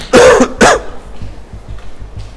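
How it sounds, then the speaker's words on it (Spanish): Two sharp, loud coughs in quick succession, followed by quiet breathing and faint background noise. "Y yo tengo una maldita tos."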